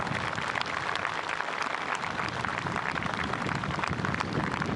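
Dense, sustained applause from a large outdoor crowd at Indian Naval Day in Malvan, Sindhudurg, cheering marine commandos as they land, a continuous loud patter of many hands without pause.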